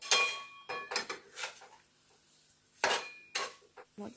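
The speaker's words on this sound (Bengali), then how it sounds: "উনুনে বসালাম, এবার নাড়বো," A spoon stirs a sweet perakee filling mixture in a pan on a stove, giving a few close, intermittent scraping and clinking strokes with quiet pauses between them.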